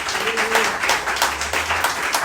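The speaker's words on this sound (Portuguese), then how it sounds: "Você aplauda ao Senhor com o seu melhor nessa hora." Church congregation applauding during an evening service, a dense wash of many hands clapping steadily throughout, with a low sustained tone and a faint voice underneath.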